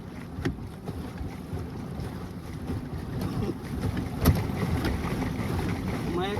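Pedal boat moving across open water, with a steady churning, splashing wash and rushing wind buffeting the microphone, plus a sharp knock partway through; no speech.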